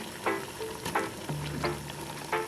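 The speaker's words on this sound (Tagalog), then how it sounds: "Ilalagay ko na din guys yung ating sayote." Chayote dropped into a pot of simmering coconut-milk native chicken and stirred, a few soft scraping stirs over a steady low sizzle, close by with no voices.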